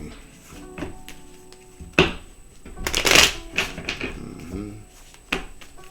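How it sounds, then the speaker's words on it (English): Tarot cards are shuffled by hand in close, crisp riffling bursts and taps, irregular over several seconds, with a louder flurry midway and no talk. "Let me shuffle these cards again"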